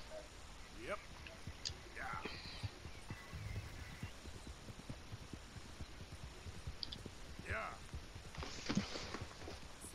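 Horse hooves clip-clopping in the video game Red Dead Redemption 2, a steady run of close hoofbeats throughout, with scattered game sounds and short tonal calls over them.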